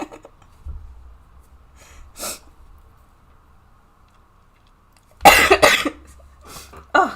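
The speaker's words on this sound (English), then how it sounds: "I'm sorry if I keep coughing." A woman coughs a few times during an indoor watercolour painting session, with one short cough early on and a louder cluster of harsh coughs later, close to the microphone in an otherwise quiet room.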